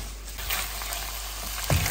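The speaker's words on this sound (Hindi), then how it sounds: "ये मैंने इसके साथ हरी मिर्चों लहसुन अदरक के साथ इसको थोड़ा सा सौते कर रही हूँ" Chicken sautéing in butter with green chilies, garlic and ginger in a home kitchen pan, a steady close sizzle with a brief stir or clatter near the end.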